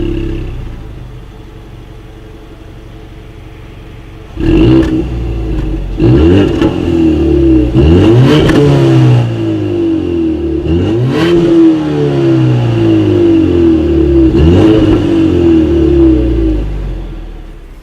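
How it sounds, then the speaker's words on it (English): A 2019 Ford Mustang GT with dual exhaust and chrome tips idles and then revs repeatedly, each loud blip of the engine rising and falling back to a deep, rumbling idle, close by and without talk. "As always, here is that exhaust clip."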